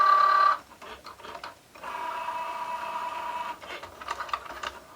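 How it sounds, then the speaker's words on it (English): A Cricut Joy cutting machine working on a cardstock card on its card mat: an opening electronic tone, then steady mechanical whirring and buzzing of the moving carriage with short motor pulses near the end, close and moderately loud. "Now the Cricut Joy will cut your card."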